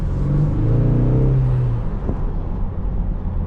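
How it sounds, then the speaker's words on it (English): A 2026 Ford Mustang EcoBoost convertible with the top down gives a steady, loud engine and induction drone while driving, with a rising tone in the first two seconds before settling into a constant rumble. "You get really good induction noise"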